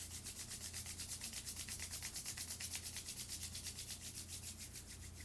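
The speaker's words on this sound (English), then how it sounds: "please rub your hands to create some heat" Two hands rub briskly together to make heat, a steady, rhythmic back-and-forth swishing that repeats quickly for several seconds, close and soft, with no voice.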